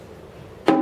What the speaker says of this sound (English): The kenkeni sounds like this.